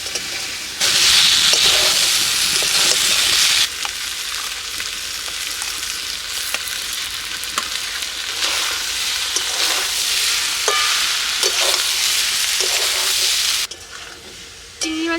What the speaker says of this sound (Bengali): আলু দিয়ে এঁচড়টা ভালো করে কষিয়ে নিলাম